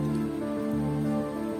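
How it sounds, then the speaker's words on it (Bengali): Steady morning rain falls and patters on surfaces, a dense, even hiss that continues without pause and without voices. "উঠে বৃষ্টি পড়ছে।"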